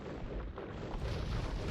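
Bombard cannons fire in a 3v3 real-time strategy video game match, a dense, continuous low rumble of overlapping booms and blasts that stays loud and heavy throughout.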